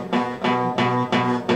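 A bass note on an acoustic guitar, fretted weakly, struck four times in quick succession, close and clear, with each strum ringing briefly and a slight buzz on the strings.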